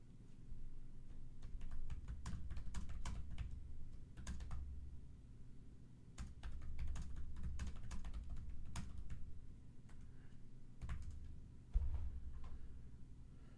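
Rapid computer keyboard typing in bursts of clicks and clacks, close and fairly quiet, with short pauses between runs of keystrokes over a low steady hum.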